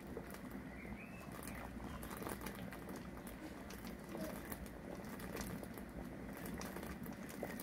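Beer wort at a rolling boil in a Klarstein brewing kettle during a homebrew brew day, with hops added: a steady, continuous bubbling and crackling patter that holds at an even, moderate level throughout.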